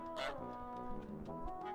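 A cartoonish goose honk from Untitled Goose Game: a loud nasal, buzzy honk followed a second later by a second, softer honk, alone with no talk.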